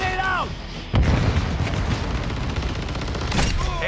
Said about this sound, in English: Incoming! Stun grenade out!